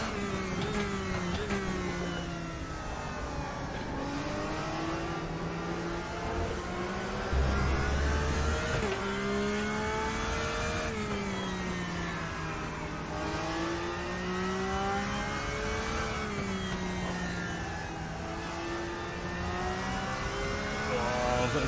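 Race car engines in the RaceRoom racing game, a BMW among them, howl steadily and close. Revs rise and fall through gear changes, with a second car droning alongside.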